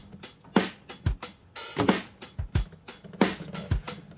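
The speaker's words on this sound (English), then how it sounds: "And so when it plays, it's going to give a full drum groove." Full drum groove from the Drum Genius app at 90 BPM, with steady kick, snare and hi-hat hits in a repeating pattern, played clearly and alone.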